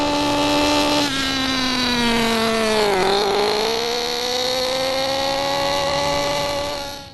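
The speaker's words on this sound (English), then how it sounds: "a richly tuned engine will tend to have a lower pitch and may sputter or gurgle." A richly tuned RC nitro engine runs steadily and loud with a buzzy, harmonic drone, its pitch sagging and wavering around the middle as it sputters, then settling back to a constant whine before fading at the end.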